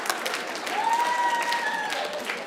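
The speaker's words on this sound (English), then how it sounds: "I see some of you guys clapping" A comedy club audience applauding, a dense wash of clapping that swells and holds for a couple of seconds, with a voice faintly audible over it.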